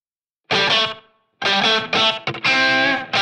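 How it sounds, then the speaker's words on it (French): Electric guitar played through a NUX MG30 multi-effects unit with a shortened, subdued tape echo, distorted notes and chords ringing out in a few separate bursts with a brief decaying tail, loud and alone. "le tape echo est un classique, je vais juste l'écourter et le rendre moins présent pour avoir une idée de room sans l'effet slapback"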